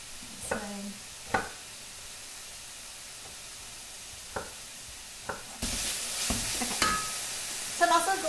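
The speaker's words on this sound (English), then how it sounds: "with the hot cast iron skillet and really develop a crust and get some browning on it" Meat browning in a hot cast iron skillet, a soft sizzle broken by occasional sharp scrapes and knocks of a utensil, the frying surging to a louder, brighter hiss partway through.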